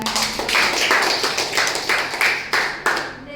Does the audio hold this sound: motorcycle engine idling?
no